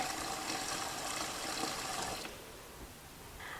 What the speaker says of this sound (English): we're going to fill up our pot with water to about 1 inch above the potatoes